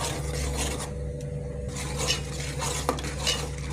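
Ground coriander-mint paste for rice sautés in oil in a pan, with a steady low frying hiss and soft intermittent scraping of a spoon against the pan, close and without talk.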